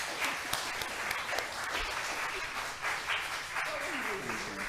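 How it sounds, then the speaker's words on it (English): Audience applause in a hall, a steady round of many hands clapping at moderate distance, with a voice briefly heard near the end. "One more round of applause."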